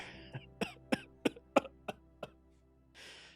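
A string of sharp, dry coughs, about eight in quick succession and fading slightly, followed by a short breathy exhale.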